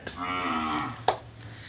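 A cow gives a single long, close moo lasting under a second, followed by a brief click, with a low hum in the background.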